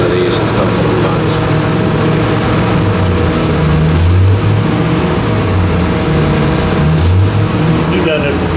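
A 427 engine with a carburetor idles steadily on a dyno, a loud continuous rumble with slight fluctuations in pitch, heard close up over the whole stretch.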